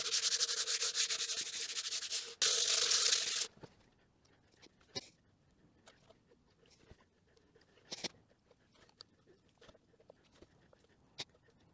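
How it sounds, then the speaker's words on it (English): Hand sanding across a CNC-carved sign, loud steady scraping strokes for about three seconds, then quiet with a few faint scattered taps and knocks. "what I'm going to do is give this a quick sand"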